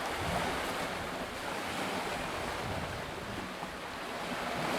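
Sea waves wash steadily onto an empty city beach in Makhachkala on the Caspian Sea, a broad continuous surf wash with some wind rumble and no voices.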